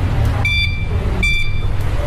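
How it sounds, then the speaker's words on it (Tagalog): An electric vehicle's horn sounds in two short, loud, tonal beeps, up close over a low rumbling background. "Lakas din ng busina."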